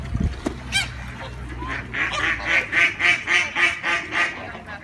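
Loud, repeated honking calls of geese and ducks gathered with swans, building into a rhythmic run of about eight honks, close by.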